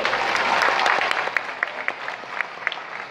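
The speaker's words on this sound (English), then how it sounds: "How about another big round of applause for Chloe?" Audience applause for a young guest named Chloe at an aquarium show, a dense burst of clapping that thins into scattered, sharper claps over about three seconds.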